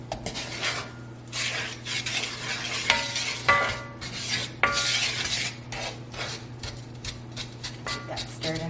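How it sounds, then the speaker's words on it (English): A utensil stirs melting sugar in a pan for caramel, a busy run of scraping and clinking strokes against the metal, close and fairly loud over a soft steady hum. "Get that stirred in real good."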